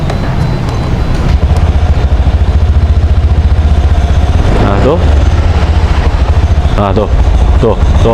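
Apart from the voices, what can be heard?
Honda Scoopy scooter engine stalling when throttle opened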